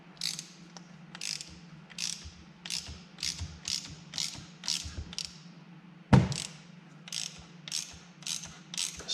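A ratchet clicks in a fast, steady series of sharp pawl ticks while a dampening rod bolt is tightened on a GPZ Turbo motorcycle fork, with one heavier clunk partway through and a low hum underneath.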